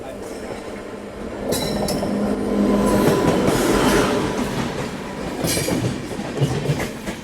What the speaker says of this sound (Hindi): सामने से कोई जो ट्रेन आ रही है, मोस्टली ये शिवगंगा होगी